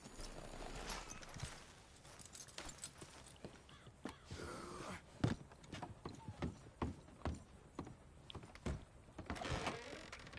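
A horse in Red Dead Redemption 2 walks with a clear, irregular clip-clop of hooves at close range, plus a few sharp knocks and a faint whinny, mostly with no talking.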